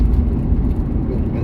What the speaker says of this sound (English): I'm driving home.